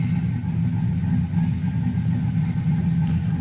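An LS-swapped Chevrolet Caprice with low oil pressure idles steadily, a deep, even engine rumble close by with no revving and no talk over it.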